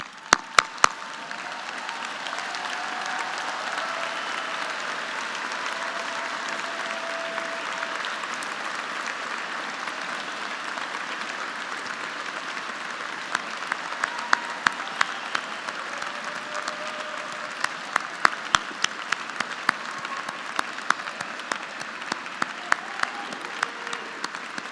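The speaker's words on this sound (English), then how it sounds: "Graduates, let's stand up and give them a round of applause." Graduates at a graduate school commencement ceremony applaud their families, a sustained round of crowd clapping heard from a distance with a few sharper nearby claps standing out.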